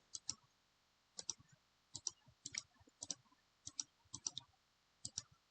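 Keyboard typing comes as quiet, crisp clicks grouped in short clusters of two or three keystrokes, separated by brief pauses.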